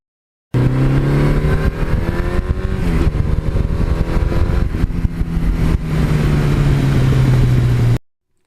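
A 1982 Suzuki GS1100E motorcycle engine revs hard and pulls under acceleration, a loud, steady near roar with rising pitch that briefly dips around mid-clip before winding up again, then cuts off.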